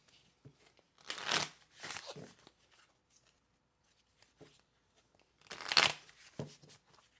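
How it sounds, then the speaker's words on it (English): Two bursts of cards being shuffled, a riffle and bridge followed by a pause, then another quick riffle, close and fairly quiet. "I'm going to keep shuffling."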